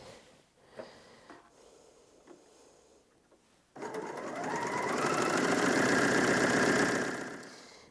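A Bernina L460 overlocker sews fabric, starting with a few quiet handling clicks before the motor kicks in abruptly to a loud, steady, rapid whirring hum that runs for several seconds and then winds down.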